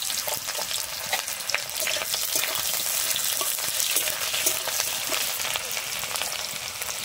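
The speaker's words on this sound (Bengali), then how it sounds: "আমি তারপরে দিয়ে দিচ্ছি একটা কুচানো পেঁয়াজ" Chopped onion frying in hot oil with panch phoron, an even, close sizzle with faint crackles that holds steady for about seven seconds with no talk.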